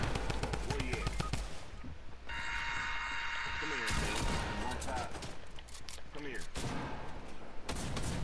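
Video game gunfire, with rapid bursts of automatic shots and scattered single cracks over several seconds, mixed with game effects and voices talking over the action.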